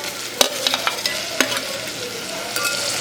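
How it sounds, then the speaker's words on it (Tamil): Tomatoes fry for mutton kozhambu, a close steady sizzle punctuated by several sharp scraping stirs and light spoon taps. "இது நல்லா ஃப்ரை ஆகட்டும்"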